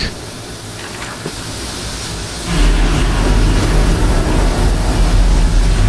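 Rerouted steam in the video game Amnesia: A Machine for Pigs, a loud, steady broadband hiss that swells abruptly partway through into a heavier rushing roar with a low rumble, with no voices.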